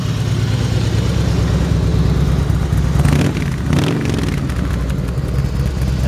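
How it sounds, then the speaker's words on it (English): A 2004 Harley-Davidson Softail Deuce motorcycle with chrome front end rumbles through its exhaust, a steady loud low-pitched engine drone running the whole time with a brief rev swell midway, no talking. "Actually, that exhaust system really sounds good."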